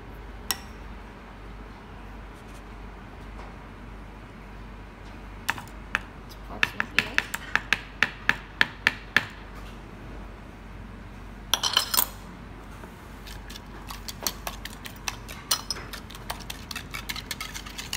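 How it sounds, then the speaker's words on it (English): Egg mixture with cream is whisked in a bowl for French toast, a run of quick rhythmic clinks of the whisk against the bowl coming in bursts, fairly close, with quieter stretches between. "Just going to whisk this in as well now."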